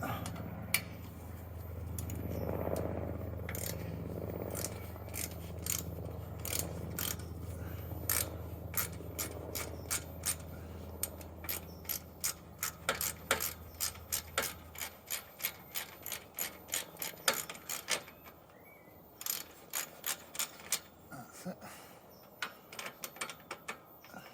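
A ratchet or wrench works loose a fastener on a backyard swing, producing a dense run of rapid metallic clicks and clanks that grow sharper and more spaced toward the end, with someone talking quietly early on.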